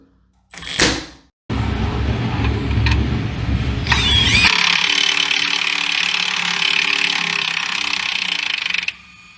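An impact wrench runs on trailer hardware, a sustained close whirring burst lasting several seconds after a brief clatter and a short pause.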